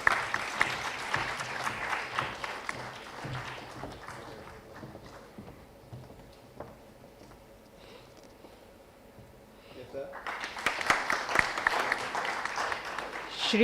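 Audience applauds speakers receiving mementos at a national infrastructure summit, with bursts of clapping at the start and again near the end separated by a quieter stretch of room murmur and faint talk.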